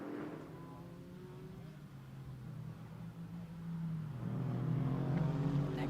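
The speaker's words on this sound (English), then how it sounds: "Car really rumbles too." A race car engine at Sebring International Raceway during a GT America race, a low steady rumble that slowly swells louder, heard at a distance under faint background noise.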